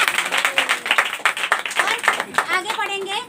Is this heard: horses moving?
no